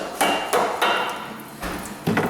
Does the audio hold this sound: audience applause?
no